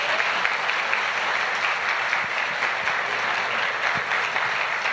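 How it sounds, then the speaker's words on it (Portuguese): Steady, dense applause from a church congregation fills the room throughout, a sustained wash of clapping with no voices standing out. "Dê uma salva de palmas para eles."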